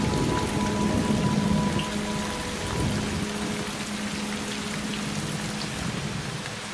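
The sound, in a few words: rain falling in western Tasmania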